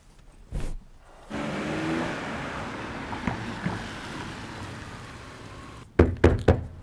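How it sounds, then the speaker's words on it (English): A car drives along with a steady engine and road rumble, broken by a few light knocks. A burst of sharp thumps follows after the rumble fades. "Farron, just fucking drive."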